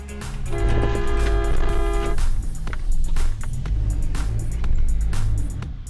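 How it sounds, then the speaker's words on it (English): A car horn blares in a sustained honk lasting about two seconds, warning an oncoming driver at a left turn in Quebec traffic, followed by loud road and engine noise with a few short knocks. "Our submitter's horn successfully stopped the other driver in his tracks"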